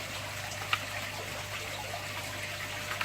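Water trickles and splashes steadily through the spray bar of a Matten filter in a shrimp tank, a soft, continuous, close wash of flowing liquid with a couple of faint drips.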